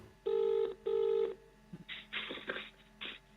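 A phone call rings out on the line with two long ringback tone bursts in a double pulse, followed by quieter muffled line noise and clicks while waiting for an answer.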